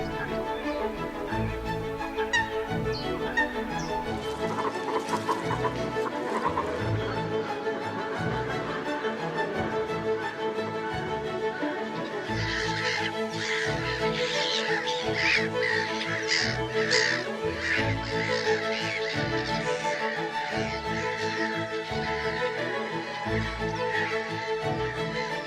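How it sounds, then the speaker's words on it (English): Greylag geese call in a spring wetland, with repeated harsh honking cries from several birds over a continuous backdrop of music. "Greylags, sacred birds of the Slavs, are at home here."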